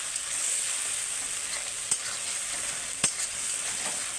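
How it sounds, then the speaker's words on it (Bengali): Mutton spice masala with dry chilli powder fries and sizzles in a pan, a soft continuous hiss broken by two sharp scraping knocks of the stirring spoon. "অল্প একটু শুকনো লঙ্কা গুঁড়ো দিয়ে ভালো করে মশলাটাকে একদম কষিয়ে নেব"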